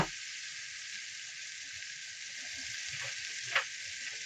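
Tilapia fillets fry in a hot pan, giving a steady, even sizzle that holds for several seconds, with a faint clink of a utensil near the end.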